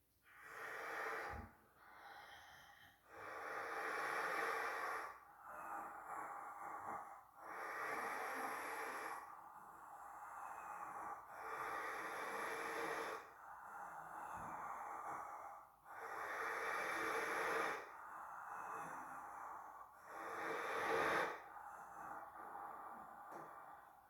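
Slow, quiet breathing during gentle morning breathwork, with inhales and exhales flowing into each other. About eight soft, airy cycles repeat over the span with barely any pause between breaths and no talking.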